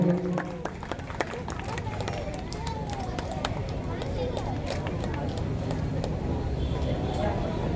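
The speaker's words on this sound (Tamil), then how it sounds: "நல்ல கைத்தட்டல் கொடுத்து அவர்களை மேலும் ஊக்கப்படுத்துமாறு அன்போடு கேட்டுக்கொண்டு" Audience applause at the 21st annual Vinayaka Chaturthi festival of Sri Senthura Ganapathi temple in Nanganallur: dense, steady clapping from a crowd fills the whole stretch at an even level, with a busy crackling texture.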